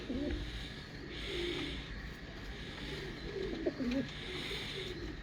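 A main breeder pigeon named Sher Dil coos in several low, throaty phrases, moderately close, over a steady background hum.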